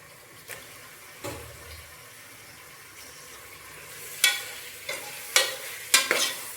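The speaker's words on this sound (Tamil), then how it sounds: "இப்போ சிக்கனையும் நல்லா இந்த மசாலாவோடு போட்டு நல்லா மசாலா சிக்கனில் ஸ்ப்ரெட் ஆகிற அளவுக்கு நல்லா வதக்கிட்டு" Chicken is sautéed in masala in a pan for Dindigul Thalappakatti biryani: quiet background sizzle with occasional scraping stirs that grow more frequent and louder toward the end.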